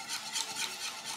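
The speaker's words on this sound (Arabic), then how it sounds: "واقلب كده واحدة واحدة" Homemade béchamel of milk, flour and water is stirred in a pot, giving soft, rhythmic swishing strokes at a quick, even pace, close and fairly quiet.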